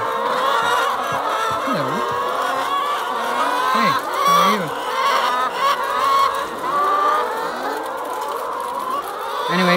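Hens in a chicken barn cluck and squawk together in a loud, busy chorus that never stops, with rising calls standing out up close.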